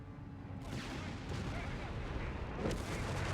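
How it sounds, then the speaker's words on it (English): Artillery bombardment in the Company of Heroes 3 real-time strategy game, a faint rumbling barrage of booms and blasts building over a few seconds, under a commentator's voice. "Bombards it anyway, thinking there's maybe even more mines there."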